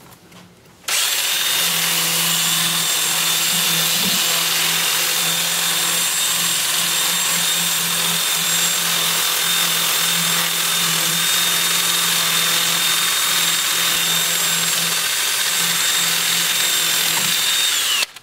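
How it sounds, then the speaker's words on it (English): A power drill spins a 2-inch sanding disc against turned wood and bark on a lathe-turned ball, producing a loud, steady, close-up whine that starts abruptly and runs continuously for about seventeen seconds before stopping, with no talking. "I'll switch to my 2-inch disc starting at 80 grit and working up through 400, and I'll sand all of the turned parts of the ball"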